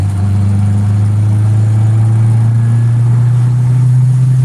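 A turbocharged GSR car engine pulls at full throttle in fourth gear, a loud, steady droning roar with a strong low hum held throughout, close up and without talk.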